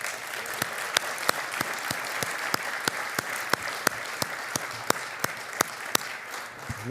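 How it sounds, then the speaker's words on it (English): Audience applause for couple receiving an award at a distinguished award celebration ceremony: a continuous wash of crowd clapping, moderately distant, with a few sharper individual claps standing out, steady throughout. "Please give them a round of applause."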